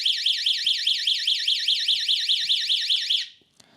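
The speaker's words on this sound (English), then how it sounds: "it's now set off the alarm." A YoLink water leak sensor in a laundry room sounds its alarm: a loud, rapid warbling electronic siren pulsing steadily for about three seconds, then cutting off to near silence with a few faint clicks.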